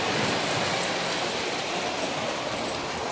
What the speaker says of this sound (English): Put it on the floor today and wanted to see a train running through it.